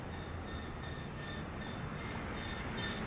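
A car engine that sounds unhealthy: a rough, steady rumble with a thin whine riding over it, loud and close, running continuously without a break.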